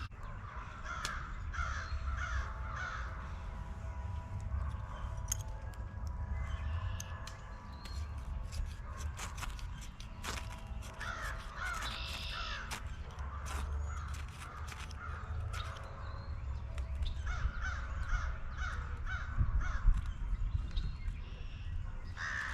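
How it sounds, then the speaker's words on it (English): Pileated woodpecker calling in New York State woods: loud, harsh cackling bursts repeated in several clusters over a quiet outdoor background, with no talking. "There you go, pileated woodpecker."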